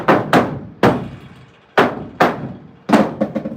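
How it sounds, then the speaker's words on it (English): Sharp hammer blows land on a thin camper trailer wall during a tiny home remodel, about eight strikes in uneven bursts, some doubled in quick succession, each ringing briefly before dying away. "make sure you hammer that so that people can hear"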